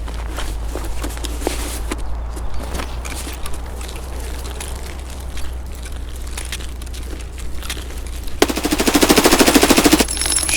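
Automatic gunfire from Escape from Tarkov, a sustained rattling burst near the end after scattered shots and footstep-like clatter over a steady low rumble.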